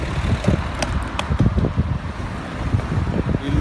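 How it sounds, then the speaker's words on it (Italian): Wind blowing at the seaside in Sciacca, Sicily, loud steady rushing gusts buffeting the microphone, with low rumble and a faint hint of surf or passing traffic, no talk. "forse si sente il vento"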